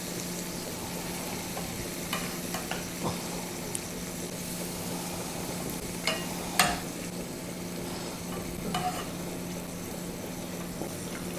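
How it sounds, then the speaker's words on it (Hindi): Goat brain sizzles and fries steadily in a pan over a lowered flame, a soft continuous crackle with occasional brief stirring clinks and pops, no talking. "चले अब इस पॉइंट पर हम ये भेजा लेके डाल देंगे इसमें।"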